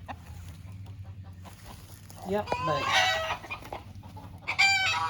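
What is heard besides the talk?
chickens clucking and crowing in a chicken pen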